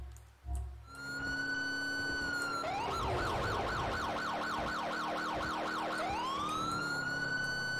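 Police car siren in GTA IV during a patrol, wailing in a fast rising-and-falling sweep that shifts pitch partway through, loud and steady over engine noise for most of the clip.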